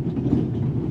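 Train running in the video game The Raven: a steady low rumble of rolling carriages and wheels, continuous and fairly close, with no talk over it.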